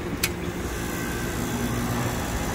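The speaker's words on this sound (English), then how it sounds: "Hear that compressor running? Wow. It's actually pumping." An HVAC compressor, recently emptied by a high pressure leak and quickly vacuumed, runs as a steady, moderately loud mechanical hum with a brief click near the start.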